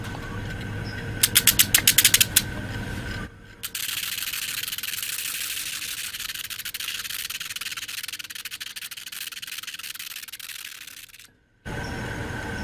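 Harsh, steady abrasive grinding from a homemade multi-tool cleaning rust off a hammer, preceded by a few sharp rattling bursts, with brief pauses.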